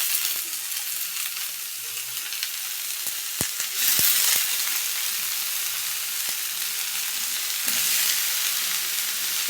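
Snake gourd frying in a pan with onion, black cumin and dried red chilli, a steady loud sizzle throughout with a few sharp clinks of a stirring spoon and brief surges as the pieces are turned.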